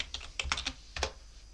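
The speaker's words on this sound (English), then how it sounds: "if I type NeoFetch" Quick keystrokes on a computer keyboard typing a short terminal command, about eight light clicks in a brief run ending in a firmer final press, close and quiet.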